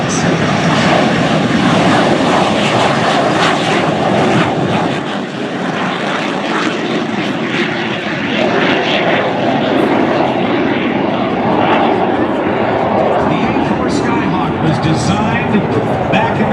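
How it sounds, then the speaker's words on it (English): Douglas A-4C Skyhawk II pure turbojet jet flying at the NAS Jax airshow, a loud, sustained roaring jet rush that holds steady for the whole pass with only a brief dip partway through. "You're going to hear the sound of a pure turbojet and the Douglas A4C Skyhawk 2"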